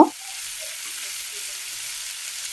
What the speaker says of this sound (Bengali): তেল গরম হয়ে এলে পেঁয়াজ কুচি দিয়ে ভেজে নেব।